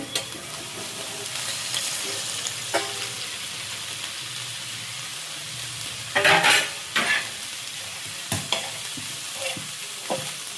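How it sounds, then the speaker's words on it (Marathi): Onions being sautéed and stirred in a hot pan for Maharashtrian onion chutney, with a steady low sizzle broken by several louder, scraping stir bursts partway through, close up and with no talking. "त्यानंतर एकदा परतून घ्यायचं."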